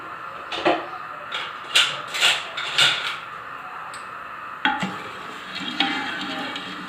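Falsa juice mixed with sugar is stirred in a pot on the stove: several distinct swishing, scraping strokes in an irregular rhythm over a soft, steady background hiss.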